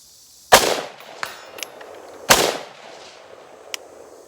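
Two loud, sharp unsuppressed 5.56 rifle shots from an IWI Carmel ring out about two seconds apart, each followed by a short echoing decay, with faint clicks between them.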